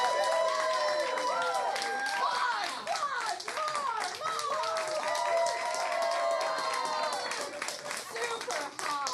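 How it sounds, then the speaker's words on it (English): Audience at an improvised comedy show claps and cheers loudly throughout, with lively voices and whoops layered over the steady clapping. "I just need more applause."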